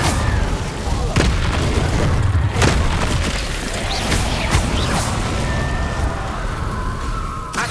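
Fire spell cast in the video game Hogwarts Legacy, loud roaring whooshes with sharp bursts and booms over constant game background noise.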